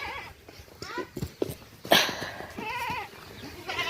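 A goat bleats several times nearby, wavering cries rising and falling amid other farmyard noises, with one louder bleat in the middle.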